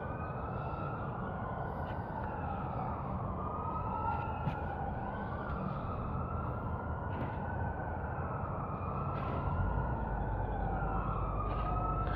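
Police car sirens wail in slow rising and falling sweeps, layered and steady over a low traffic rumble, at a moderate distance and without speech.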